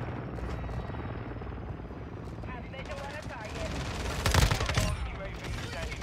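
Air-support helicopter arriving in Call of Duty Modern Warfare II multiplayer, rotor drone throughout with bursts of gunfire and a loud blast near the end, over game radio voices.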